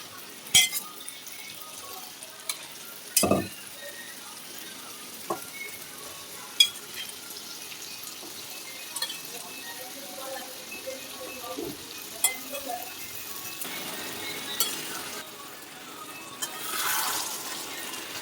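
Chickpeas added to hot spiced oil for a chickpea curry, a faint steady sizzle with occasional clinks and scrapes of a spoon stirring in the pan, close and without talk.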